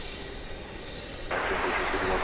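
An Airbus A320 airliner at DFW airport at night, a steady distant jet roar that jumps abruptly louder partway through, with speech partly audible over it.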